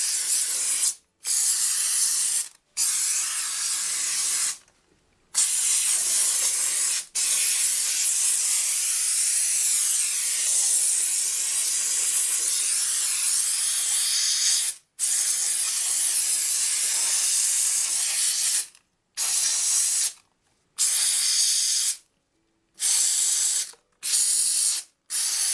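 Steam cleaner spraying car wheels, loud steady hissing bursts of steam cut by short silent pauses between passes, close up and alone throughout.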